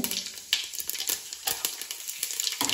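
Cumin seeds hit hot oil for a paneer dum biryani and sizzle up close, a continuous crackling hiss with bright popping spurts.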